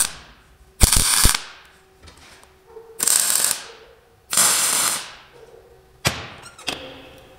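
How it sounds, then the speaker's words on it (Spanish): Repeated tack welds on a hydraulic brake trailer hitch: about five short, sharp crackling bursts spaced roughly a second apart, each about half a second long and close up, with quiet pauses between them. "Como ven, punteamos."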